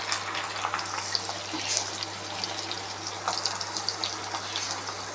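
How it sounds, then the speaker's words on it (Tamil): Onion and garlic frying in oil with fenugreek give a steady, fairly quiet crackling sizzle with a low background hum. "வெங்காயம் பூண்டு போட்டு நல்லா வதக்கிக்கலாம்."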